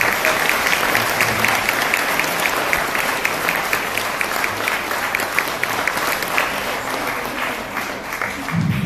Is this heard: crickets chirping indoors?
no